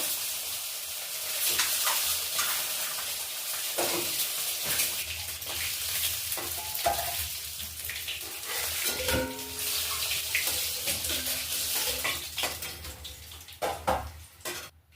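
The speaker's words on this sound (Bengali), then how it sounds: "প্রথমে ডিমটা ছেড়ে দিচ্ছি।" Boiled eggs coated in salt and turmeric fry in hot oil in a wok, giving a loud, steady crackling sizzle with sharp spits and pops throughout, alone without talk.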